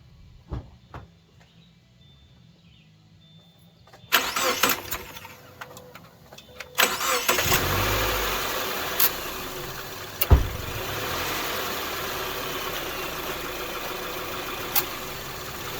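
Subaru engine starts while its air conditioning is being charged, with a burst of cranking that settles into a steady idle hum, after quiet handling clicks and a few sharp knocks.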